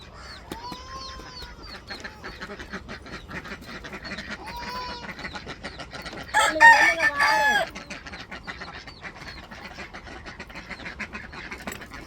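Farmyard chickens cluck steadily throughout, with a rooster crowing loudly once near the middle and fainter crows earlier, all fairly close and without talk.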